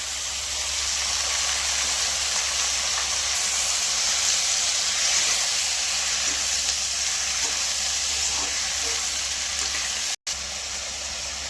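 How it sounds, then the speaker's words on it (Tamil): Onion, tomato and mint sauté in a pan with a steady, even sizzling hiss that stays constant throughout and then cuts out for a brief moment near the end. "எல்லாத்தையும் நல்லா வதக்கிடலாம்"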